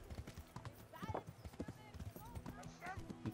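Rapid, rhythmic horse hooves in Kingdom Come: Deliverance clip-clop at a steady pace, closely mixed with game sounds and a person talking over them.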